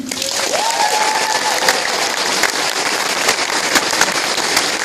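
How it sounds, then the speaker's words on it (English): Loud, thick clapping from a comedy show audience at the Metro, continuous and dense from start to finish, with a brief rising whistle-like tone early on. "So can you clap a lot for them?"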